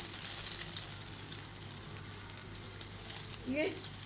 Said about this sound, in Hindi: इसको शैलो फ्राई करिएगा, डीप फ्राई बिल्कुल नहीं करना है।